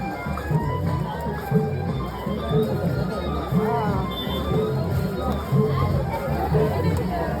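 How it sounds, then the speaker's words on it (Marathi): A large crowd of pilgrims fills the grounds of Bhimashankar temple with a dense, continuous babble of many voices, some nearby and some distant, and a few louder voices rise above the general hubbub. "आता आपण भीमाशंकर मध्ये पोहोचलोय प्रचंड अशी गर्दी दिसते"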